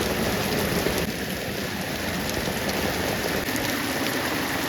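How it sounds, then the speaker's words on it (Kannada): Heavy rain pours down steadily, a loud, dense and unbroken hiss that fills the whole stretch with no pauses and no voices. "ಜೋರು ಮಳೆ ಬರ್ತಾ ಉಂಟು"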